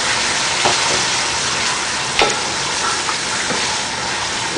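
Loud steady sizzle and hiss from a hot pan of frying meat and masala for nihari, with a few sharp clinks and scrapes as boiling water is added and stirred.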